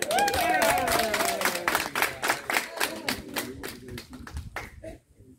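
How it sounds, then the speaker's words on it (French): An audience at a political gathering in Sotouboua bursts into brisk hand clapping for a man among them, loud at first with a voice briefly over it, then thinning into scattered claps and fading out. "Il faut l'acclamer, non?"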